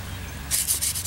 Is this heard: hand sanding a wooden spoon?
yes